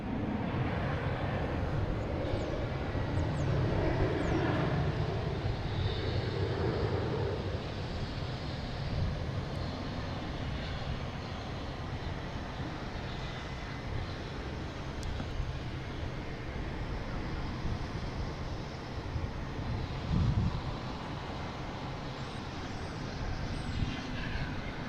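JetBlue airliner on flight 2077 to Las Vegas at Boston Logan International Airport, its jet engines giving a steady, broad rumble that holds for the whole stretch with a brief swell near the end, no voices over it.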